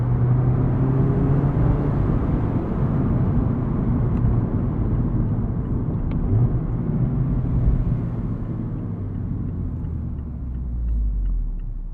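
A 2023 Mazda MX-5 Miata ND2 drives a backroad, its engine a steady low rumble with road and wind noise in the cabin. The drone rises and falls slightly and runs continuously with no speech.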